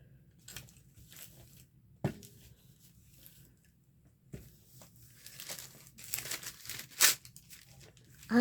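Scissors cut through beeswax paper up close, a few scattered crinkling snips and tearing rustles separated by quiet gaps, with a sharper crunch near the end.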